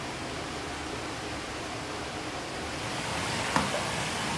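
Hot spring water spilling steadily over the rim of an in-room bathtub at a Kurokawa Onsen inn, a soft continuous wash of splashing with a brief louder splash near the end.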